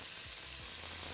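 Onions sizzle in a hot pan, seasoned with kosher salt and black pepper for a spiced butternut squash soup; a steady, close, bright hiss fills the whole short moment with no talking.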